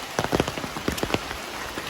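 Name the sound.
heavy rain falling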